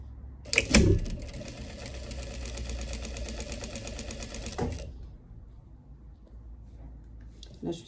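A sewing machine runs in one steady burst for about four seconds while stitching the armhole seam of a dress, then stops, leaving quiet room noise.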